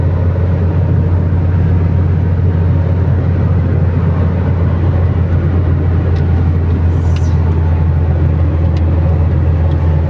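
Steady, loud engine and road rumble heard from the passenger seat of a car driven through Riyadh, a constant low drone without change and no talk.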